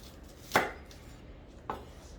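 Two sharp knife chops on a cutting board while onion is cut for macaroni salad, each a crisp knock, about a second apart, over quiet room tone.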